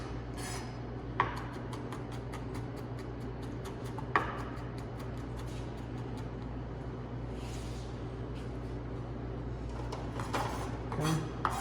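A knife minces chicken into small pieces on a cutting board, making rapid rhythmic chopping taps in long steady runs, close and fairly quiet, with a couple of louder knocks and a low background hum.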